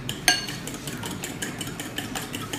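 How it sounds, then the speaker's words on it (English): Eggs and a quarter cup of oil being stirred together in a bowl for Passover matzo balls, a steady series of soft clinking and scraping strokes with a sharper knock near the start. "and you mix that well"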